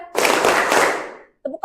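Hands clap together in a classroom clapping game, a dense burst of many claps lasting about a second and fading out, followed by a brief voice.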